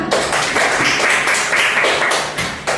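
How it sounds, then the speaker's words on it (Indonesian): A classroom group claps in quick, even, rhythmic beats for a few seconds, loud and close, in a roomy indoor space. "Tepuk tangan untuk kalian semua."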